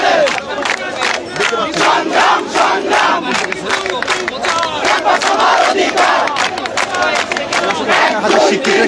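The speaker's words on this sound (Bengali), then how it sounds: "তারা আসলে বিভিন্ন স্লোগান দিচ্ছে।" University student protesters in front of the Secretariat chant slogans in rhythmic unison, a loud crowd repeating short shouted phrases in steady beats, close and continuous throughout.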